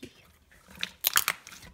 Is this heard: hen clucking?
no